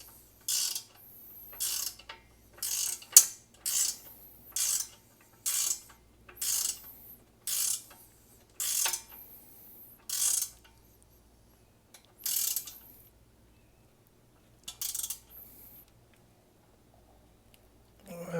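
Ratcheting mechanism cranking on a bent hinge of a Harbor Freight Pittsburgh engine crane, a series of about a dozen short, sharp clicking bursts at a steady pace, then a pause and one more burst.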